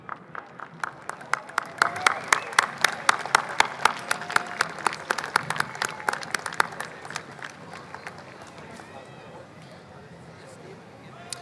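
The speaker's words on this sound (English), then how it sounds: "Round of applause, folks." Crowd applause at an Armed Forces Day parade in Torrance, scattered sharp claps and cheers from spectators along the route, building then thinning out toward the end.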